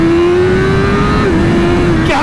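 A BMW M1000RR motorcycle launches at full throttle with launch control engaged, its engine a loud, close, held high-pitched drone whose tone climbs slightly and steps briefly as the bike surges forward.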